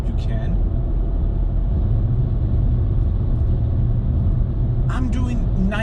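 Steady low engine and road rumble from inside a 2020 VW Polo cruising at 90 km/h, constant and close, with a brief higher burst near the end.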